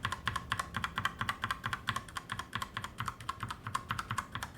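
Rapid, steady typing on Outemu mechanical keyboard switches, a close, continuous run of crisp clacky keystrokes with no talk over it.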